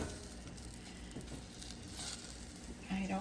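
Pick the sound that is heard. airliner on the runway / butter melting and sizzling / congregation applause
butter melting and sizzling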